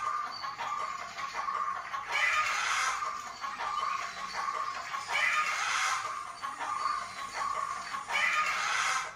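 Rooster crowing and clucking used in the score of a Tamil movie trailer, repeated calls in bursts every couple of seconds over a dim background, no talk.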